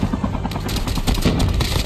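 Rapid automatic blasts from a JACK12 shotgun in an online shooter game, a dense, loud run of shots fired in quick succession with no pause.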